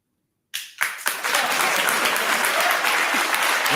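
Audience applause erupts from a crowd after a moment of silence and builds quickly into loud, sustained clapping that continues steadily to the end.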